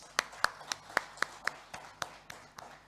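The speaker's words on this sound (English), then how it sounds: "Let's give them a big round of applause." Sparse, scattered handclaps at the close of a policy roundtable, about a dozen sharp claps at an uneven pace, fairly quiet, with no voices over them.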